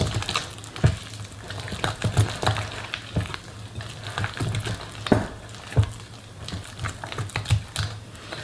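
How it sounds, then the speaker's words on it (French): Mashed potato with five egg yolks is stirred in a bowl for duchess potatoes, giving a rhythmic series of soft, wet taps and scrapes from the utensil at close range. "Et on va commencer à venir mélanger notre préparation."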